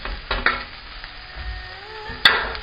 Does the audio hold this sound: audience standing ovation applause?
no